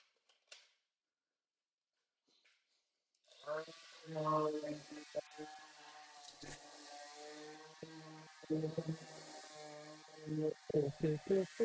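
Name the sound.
electric sander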